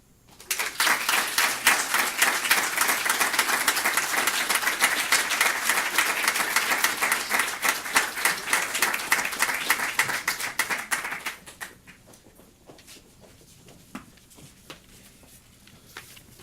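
Dense clapping from an audience after a live music performance, loud and steady for about eleven seconds, then dropping away to a faint room murmur.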